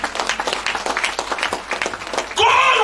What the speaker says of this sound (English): Clap your hands and give Jesus praise.